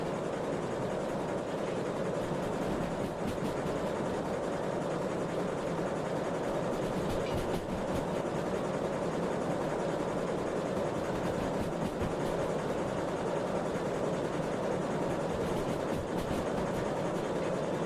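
An S282 steam locomotive labours along in the Derail Valley simulator game, a steady rumbling chuff with rhythmic rail clatter and hiss, continuous and moderately quiet, with no voices.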